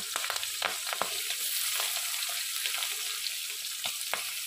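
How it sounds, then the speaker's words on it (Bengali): Onions and slit green chilies frying in oil in a pan, a close, steady hiss of sizzling punctuated by quick scraping stirs of a spatula, with no voices. "পেঁয়াজগুলো যতক্ষণে সোনালি রঙের হচ্ছে ততক্ষণে আমি একটু নাড়াচাড়া করব।"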